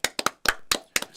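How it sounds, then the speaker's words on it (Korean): A small group claps in a Korean political party leadership campaign setting, giving several short, sharp bursts of applause with brief gaps between them, fairly close and without talk. "박수."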